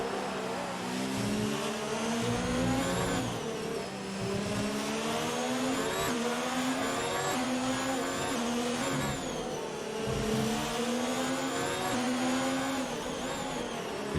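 Ferrari race car engine in an Xbox racing game at Abu Dhabi, a steady high-pitched screaming drone rising and falling through gear shifts, loud and continuous with other cars blending in.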